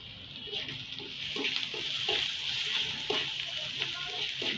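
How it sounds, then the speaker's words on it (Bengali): Pointed gourd (kakrol) frying in a pan with chili, turmeric and coriander powders, a steady sizzling hiss throughout, fairly close, with faint speech under it. "ভালো করে ভেজে নেব।"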